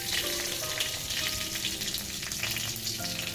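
Two green chilies go into whole cumin frying in hot oil, a dense, loud, crackling sizzle that holds steady and close throughout, with no speech.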